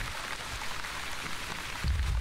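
Rain falls in the video game The Wandering Village, a steady hiss of drops at even, moderate loudness, with a low rumble entering near the end.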